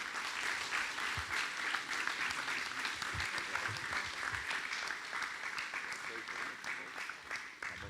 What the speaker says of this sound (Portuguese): Receber com muita alegria. Aplauda Jesus pela vida do pastor Fabiano.